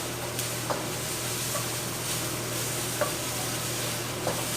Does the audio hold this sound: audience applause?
no